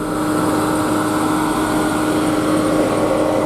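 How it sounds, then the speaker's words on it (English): Loud, steady whir of a Jeep Trackhawk's radiator fan running at full speed, a continuous broadband roar that holds at an even level from start to finish with no talking. "That's probably the loudest radiator fan I've ever heard."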